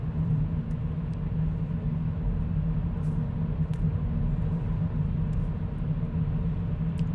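Loud, steady low rumble of tyre and road noise inside a Kia Proceed GT while driving, a continuous droning hum with no talk over it.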